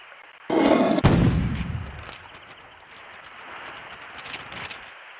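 A single deep cannon boom bursts out in a video game, then fades in a rolling rumble, followed by faint scattered noises.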